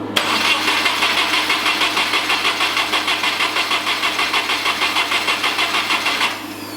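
A 600 hp Subaru Forester with a Cosworth EJ257 engine cranking at the key turn, a rapid rhythmic starter chug repeating steadily for about six seconds without catching, close and loud.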